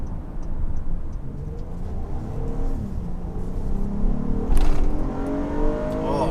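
The engine of a 2019 Honda Odyssey minivan revs with VTEC as it accelerates on the road, a steady drone whose pitch climbs and surges, heard from inside the cabin with no talking.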